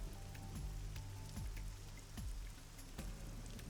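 Steady rain falling in the video game AI: The Somnium Files, a moderate, even hiss of patter with scattered louder drops that continues throughout, with no voices.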